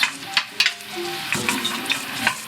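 Minced garlic frying in a pot with a sofrito of chopped vegetables, including carrots: a steady, bright sizzle with a few utensil scrapes and clinks, close and moderately loud, with no talking.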